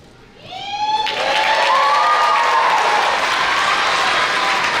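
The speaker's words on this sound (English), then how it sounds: "Let's give another applause for the class of 2022." Graduation audience at a 2022 high school ceremony in Unalaska breaking into loud, sustained applause and cheering that swells after a second and holds steady, with a few high whistles at the start.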